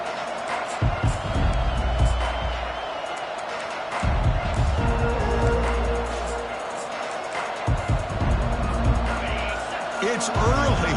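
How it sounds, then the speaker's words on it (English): A football stadium crowd roars steadily and loudly for the whole stretch, with the noise swelling in waves while a commentator talks over it. "It's early, but this crowd is fired up. Listen to this noise here."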